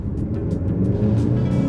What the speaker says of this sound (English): That was almost a 2-second delay when I just slammed my foot on the accelerator